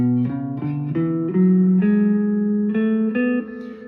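A B Dorian scale played note by note on a pitched instrument, eight clear steps in steady sequence, close and moderately loud, with no voices.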